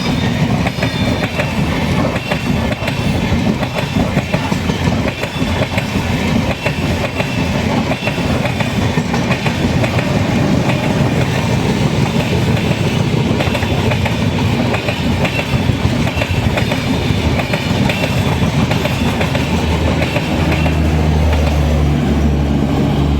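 The Ernakulam–Madgaon Weekly Express rumbles past up close, loud and continuous, with rhythmic wheel clatter over rail joints and a brief squeal of wheels near the end.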